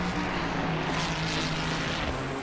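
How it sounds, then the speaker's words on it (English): A sim race car running at Suzuka during an eight-hour endurance event gives a continuous engine drone. It is loud and steady, with a low hum under broad rushing noise and no voices. "Car sound is a little bit too loud."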